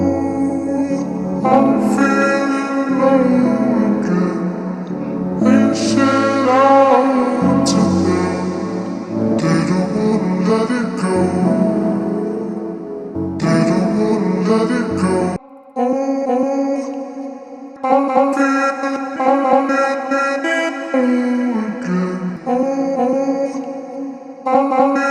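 Lofi house track built on a piano sample with a pitched vocal chop, vinyl texture and reverb plays steadily and loudly, with chords pulsing in a looping groove and a brief drop near the middle.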